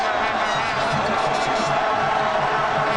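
A large stadium crowd roars in a steady, loud wash at the 1995 USA vs Colombia soccer match, a continuous murmur with faint cheers and no pause.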